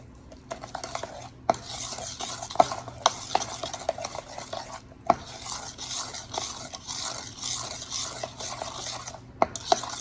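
A spoon mixes sugar and butter for cookie dough in a bowl, steady scraping and stirring with repeated clinks against the side, close up and without talk.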